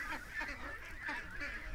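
Several nasal honking calls from ducks repeat in quick bursts, fairly close, against a soft background hiss.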